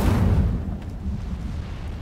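In the Hogwarts Legacy video game, an Incendio fire spell blasts with a sharp, heavy whoosh and burst at the start, then a rumbling, fading roar of flame trails off over the next couple of seconds.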